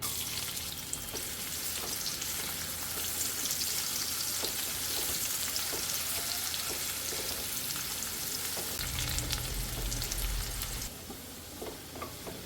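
Chopped shallots frying in oil for a padavalanga and dried shrimp thoran, a dense close sizzle with scattered stirring clicks, later joined briefly by running water before the frying settles quieter.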